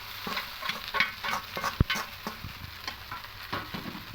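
Maggi noodles are worked into a flour mixture in a bowl with soft, repeated stirring and squelching strokes, one sharper knock partway, close and quiet.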